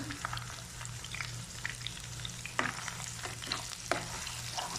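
Ginger and garlic frying in a pan, a soft continuous sizzle with scattered crackles and a few sharp stirring clicks, plus a low steady hum underneath; no talking.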